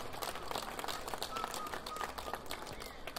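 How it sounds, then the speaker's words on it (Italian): Applause from an audience at an award ceremony, a soft, steady patter of many hands clapping at a distance, fairly faint throughout. "rivolgiamo anche un applauso"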